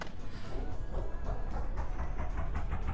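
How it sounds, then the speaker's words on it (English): A racing car in a VR sim racing game with a rhythmic, chugging engine note that throbs like a steam train, steady and fairly loud with regular pulses throughout. "Sounds like a steam train"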